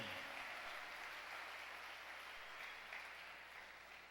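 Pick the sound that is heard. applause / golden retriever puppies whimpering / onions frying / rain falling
applause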